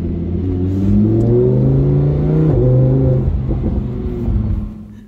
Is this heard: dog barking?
no